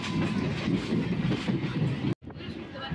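Howrah to Masagram local train 36083 rolls along the rails with a loud, close, continuous rumble and rhythmic wheel clatter, cut by a brief dropout before the rumble resumes.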